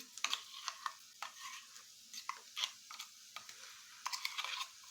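Masala paste for soybean curry sizzles quietly in a pan, broken by irregular scraping and stirring strokes that come close and crisp over a soft background.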